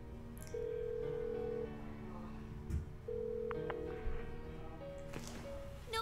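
A phone call rings out unanswered until voicemail in the Persona 4 Golden video game: two long, steady electronic ringback tones with a short gap, then faint beeps, fairly clear over low background music.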